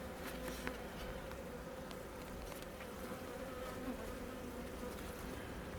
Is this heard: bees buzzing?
yes